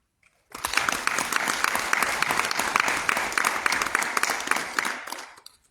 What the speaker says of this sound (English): Je vous prie de leur réserver des applaudissements nourris